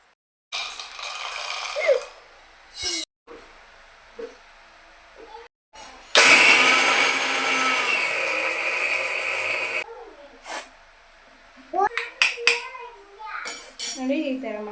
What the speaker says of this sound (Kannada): ಫಸ್ಟು ಮಿಕ್ಸಿ ಜಾರ್ಗೆ ಹಾಕ್ಕೊಂಡು ಗ್ರೈಂಡ್ ಮಾಡ್ಕೊಳ್ಳೋಣ.